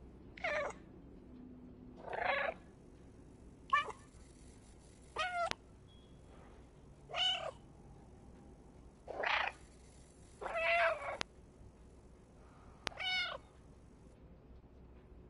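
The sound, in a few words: orange stray cat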